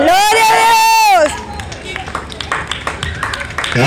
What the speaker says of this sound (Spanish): fuerte los aplausos al que vive